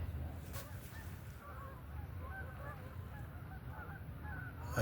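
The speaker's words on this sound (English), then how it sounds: "I hear the geese." Geese honking in a flock somewhere in the trees on a fall day at an outdoor steam engine show in Pennsylvania, a steady chorus of distant calls over outdoor rumble.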